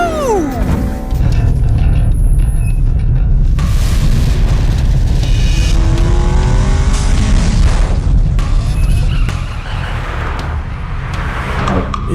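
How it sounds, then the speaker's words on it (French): A car roars up from behind on a mountain road during a street race, its loud engine surging and booming close by, with crashing impacts near the end and no talk. "Une voiture arrive derrière."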